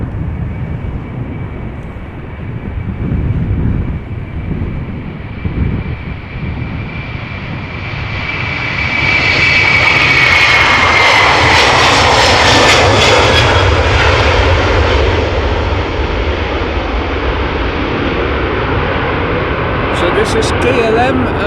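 An SLM airliner on flight 993 to Paramaribo at Amsterdam Schiphol Airport swells into a loud, sustained jet-engine roar after a thin whine, holding close and powerful for its second half.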